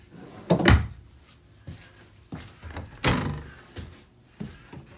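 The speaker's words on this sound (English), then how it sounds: "you got three drawers right here with the nicer glides" Cabinet drawers on smooth glides inside a 2019 Chaparral 370FL boat slide open and shut, giving several soft thunks and a sharper close, spaced out with quiet gaps and no talk.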